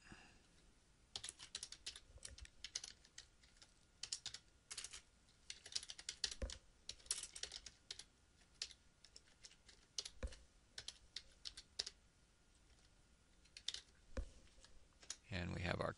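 Keys clatter on a computer keyboard while text is entered into an Excel 97-2003 chart, a steady run of close, quick clicks with short pauses and a louder burst near the end.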